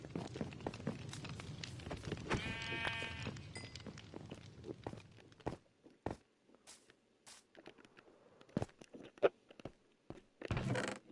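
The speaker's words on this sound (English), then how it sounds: "What are these sheep doing?" Blocky Minecraft sheep bleat in the video game, a short wavering call up close amid clicks, footsteps and game sound effects, followed by quieter scattered taps and clatter.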